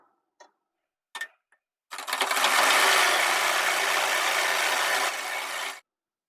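A sewing machine stitches a kurta collar in one continuous, loud, close run of about four seconds, after a few light clicks from handling.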